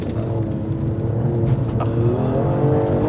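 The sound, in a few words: Alfa Romeo Stelvio Quadrifoglio engine revving through hairpin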